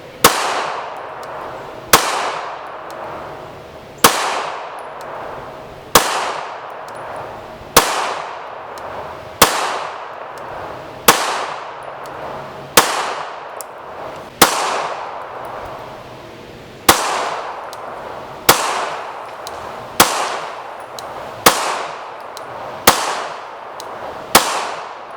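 Pistol shots from a Glock 19 and an XD Mod 2 firing HPR 115-grain jacketed hollow points ring out one at a time at an even pace, about a dozen loud sharp cracks, each with a decaying echo.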